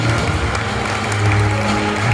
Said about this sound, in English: Wow, we've got two Contractor of the Year winners to applaud.